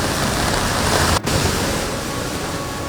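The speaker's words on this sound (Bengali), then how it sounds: "এখনো পর্যন্ত বৃষ্টি হচ্ছে" Rain pours steadily during a stormy spell of weather, a loud, dense, unbroken hiss with only a momentary dip, heard close and alone without any voices.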